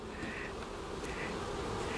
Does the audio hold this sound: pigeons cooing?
no